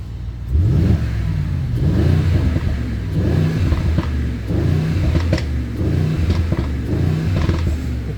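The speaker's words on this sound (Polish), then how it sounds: "posłuchajcie, jak to brzmi w trybie race" A 2022 Mercedes GLE 63 S 4Matic with 612 hp, its exhaust in race mode, revs repeatedly in loud close bursts, each rise and fall of the engine note following the next in a steady rhythm.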